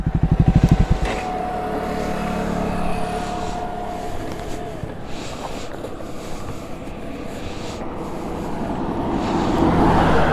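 A Triumph motorcycle engine idles and keeps running with a steady, loud rumble, sharp firing pulses at first, then a continuous drone mixed with wind noise that grows slightly toward the end.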